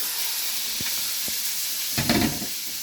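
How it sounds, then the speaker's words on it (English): Macaroni cheese cooking in a pan on a medium-high hob is stirred, a steady close sizzle and hiss with a couple of light utensil taps and a short thicker squelching stir near the end. "Right, I'll just give this another stir."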